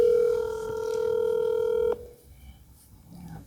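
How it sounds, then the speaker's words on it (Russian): Telephone dial tone from a phone placing a call during an interview: a steady loud tone that cuts off abruptly after about two seconds, leaving faint room noise. "Давайте еще раз набираем вашу супругу."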